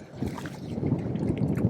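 Strong wind sweeps across a lake during feeder fishing, a steady low roar and buffeting that rises and falls throughout with no clear voices.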